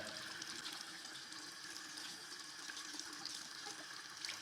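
Steady running water rinses soap off a shower skin grip pad, a continuous even wash of flow with no voices.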